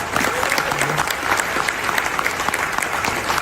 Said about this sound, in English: Give yourselves a round of applause for being unstoppable